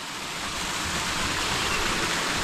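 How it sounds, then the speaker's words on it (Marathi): A small waterfall roars with a dense, unbroken rush of falling water, loud, steady and close, with no voices. "आपल्याला लागलेला आहे छोटासा धबधबा, त्याची सगळे लोक मजा घेत आहेत"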